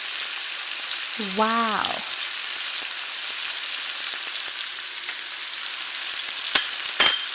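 Onion, garlic and tomato sautéing for pinakbet, a steady close hiss of frying in a pan with occasional stirring clicks and pops, a brief exclaiming voice near the start.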